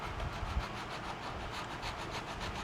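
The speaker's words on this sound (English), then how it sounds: "I'm just gonna sand this lightly" A cedar chest's wood is sanded lightly by hand, giving a steady, close, continuous rasping rub with a faint back-and-forth pulse and no pauses.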